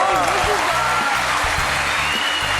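Dense audience applause in a television singing competition studio, loud and sustained throughout, with a voice speaking over the clapping.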